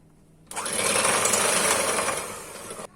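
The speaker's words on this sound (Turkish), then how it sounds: "Güzelce bunu çırpalım koyulaşırken" An electric mixer whips cream to thicken it for a milk, semolina and biscuit dessert, a steady high whirring hum that starts abruptly and runs loud for over two seconds before cutting off.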